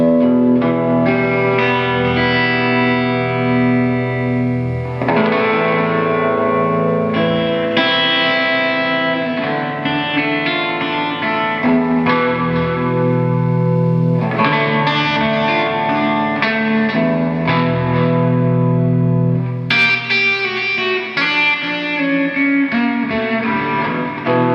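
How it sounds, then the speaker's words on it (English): Electric guitar played through a Leslie rotary speaker simulator into a '58 Bassman amp, steady swirling chords and notes wavering back and forth, loud and continuous with no talking. "let's turn on the Leslie simulator, which will cause 58 Bassman to come on. And the sound will move back and forth."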